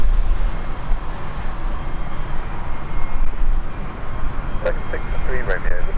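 An ATR turboprop airliner takes off at London City Airport, its loud, steady broadband engine roar filling the whole stretch, with a faint voice briefly audible over it near the end.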